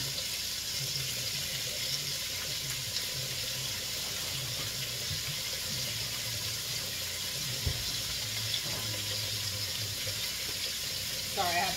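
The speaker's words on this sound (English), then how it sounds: "I have to go and wash my hand" Water runs steadily from a kitchen tap for handwashing in the middle of cooking, a constant soft hiss with faint clinks and a voice speaking at low level.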